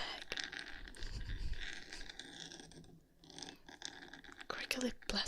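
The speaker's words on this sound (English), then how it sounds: "Crinkly plastic sounds is probably a better description of those." A crinkly plastic chewing gum bag is handled close to the microphone during an ASMR livestream, with scattered crackles and rustles, sharpest toward the end, alongside soft whispering.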